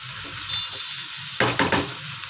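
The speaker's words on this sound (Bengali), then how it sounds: "কাজু কিশমিশ সব এর মধ্যে দিয়ে ভাজা ভাজাও হয়ে যাবে" Cashews and raisins fry in a pan with a continuous bright sizzle, broken midway by a few quick, louder bursts of stirring, with no talk.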